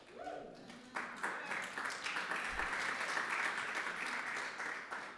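Audience applause at a memorial celebration of a life and legacy, a dense, steady wash of clapping from a large crowd that swells in after a brief lead-in and holds at an even level to the end.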